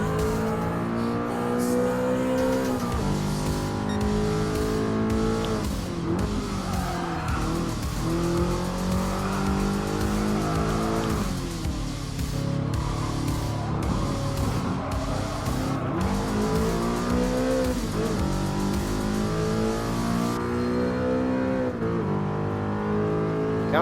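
An Audi R8 races a Porsche in Gran Turismo Sport, its engine roaring continuously at high revs with repeated rises and drops in pitch through gear changes, plus brief tire squeals.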